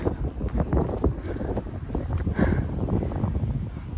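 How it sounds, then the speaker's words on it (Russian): Strong wind buffets the microphone in loud, uneven gusts, with faint footsteps or movement beneath. "Вообще, что-то ветер сегодня у нас сильный."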